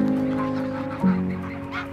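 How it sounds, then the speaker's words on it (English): Dark-bellied Brent geese honk on a Solent estuary, their calls sounding steadily and fairly close, with one louder, sharper honk standing out partway through. "Of particular importance is the local population of dark-bellied Brent geese"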